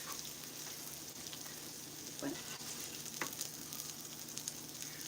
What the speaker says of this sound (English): I got to toast some onions